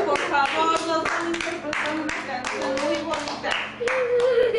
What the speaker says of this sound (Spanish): Berly y Trini, un aplauso por favor